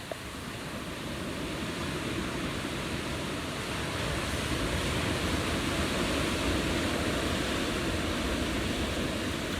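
Ocean waves wash in as a broad, steady surf roar, loud and continuous with a gentle swell and no voices.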